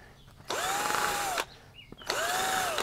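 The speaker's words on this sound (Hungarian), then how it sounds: "ezért fogtam egy 11 mm-es fúrót," Two bursts of a power drill with an 11 mm bit whirring into a plastic motorcycle cover, its whine climbing as it spins up, with a short pause between runs.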